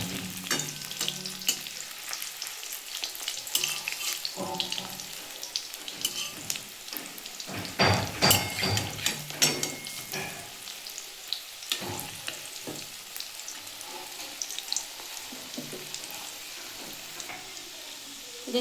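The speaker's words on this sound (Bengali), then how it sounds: "মাছের ডিমটা আমি ভেজে নেব" Fish roe fritters fry in hot oil for a fish egg curry with potato and pointed gourd, giving a steady close crackling sizzle throughout with louder bursts and spatters as pieces are turned.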